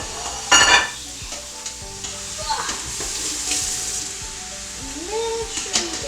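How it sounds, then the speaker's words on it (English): Pork and garlic sauté in a hot pan, a soft steady sizzle with the scrape and clatter of a spoon stirring, quiet and close, while people talk lightly over it. "We'll add in our pork. Okay, do you wanna? And then saute again."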